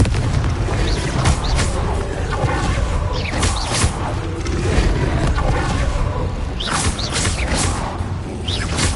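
In the Hogwarts Legacy video game, the Confringo spell sets off loud fiery blasts in a dense, continuous battle din, with booming explosions and whooshing bursts stacked on a rumbling low roar.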